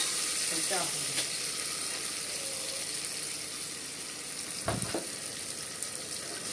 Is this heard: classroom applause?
no